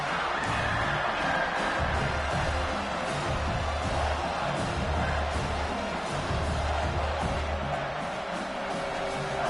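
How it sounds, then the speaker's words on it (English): A large football stadium crowd keeps up a steady, dense roar of cheering and noise from the stands on a defensive third down, filling the whole stretch without pause. "This crowd rising up, sensing that its defense needs some help."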